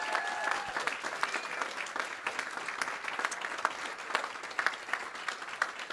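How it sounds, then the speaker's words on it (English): Sustained audience applause at a board of education meeting, many hands clapping steadily at moderate volume from a crowd, with no talking over it. "let's give these folks a big round of applause."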